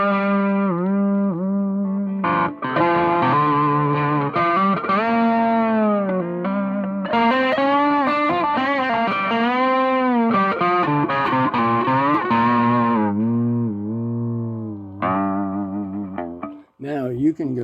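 An electric guitar runs through a Peavey Classic Chorus 212 amp in high gain mode, with sustained, heavily distorted notes and bends played in a continuous loud phrase with some effects shimmer and no talking.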